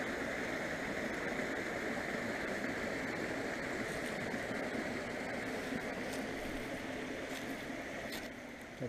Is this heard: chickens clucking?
no